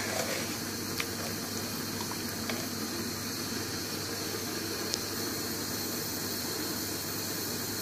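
Chopped tomatoes, one large tomato, simmer in a pot of Bengali-style tarka dhal, giving a faint, steady bubbling hiss with an occasional soft tick and no talking.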